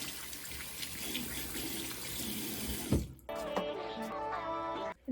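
Lukewarm water runs from a tap while a face is rinsed to remove makeup, a close, steady splashing and trickling that breaks off briefly, then resumes as a clearer, brighter stream.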